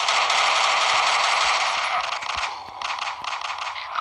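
Video game gunfire at zombies comes as rapid metallic shots over a dense, loud layer of game noise, with bursts of sharp clicks and rattles that get choppier toward the end.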